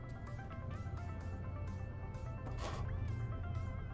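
A cat meows several times amid a busy game soundscape of low rumbling and music, the cries moderately faint and mixed under the background.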